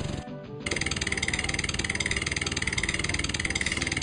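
Farm tractor engine in the 102 Dalmatians video game running with a steady chugging idle, loud and continuous after a short dip at the start, with no voices.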